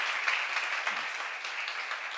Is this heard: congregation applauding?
yes